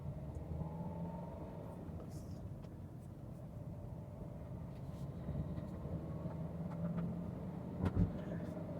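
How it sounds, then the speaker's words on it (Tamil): Inside a Renault Duster diesel on a highway, a steady low engine and road drone rumbles continuously at speed, swelling slightly near the end with faint interior clicks. "இப்போ நம்ம ஹைவேக்கு வந்துட்டோம். கொஞ்சம் வந்து ஹை ஸ்பீடு எப்படி இருக்குது அப்படிங்கிறத பார்ப்போம்."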